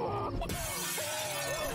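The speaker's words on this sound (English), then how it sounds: "they're breaking the glass" Window glass shattering in an animated cartoon as characters break through: a sudden bright crash of breaking glass with a tinkling spray of shards, set against a sliding whistle-like cartoon tone and a faint voice.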